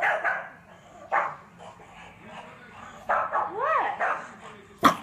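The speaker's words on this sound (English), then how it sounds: "What are you guys barking at? You're barking at the monkeys?" Small dogs bark at monkeys close by, sharp yips and woofs coming in uneven bursts with a rising whine between them, while a person talks over the barking.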